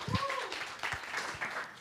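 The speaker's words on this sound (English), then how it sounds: "can we all give him a wide, loud" Audience applause in a room at a Johannesburg futurist talk event as a speaker is welcomed to the stage, a steady moderate wash of clapping with some voices mixed in.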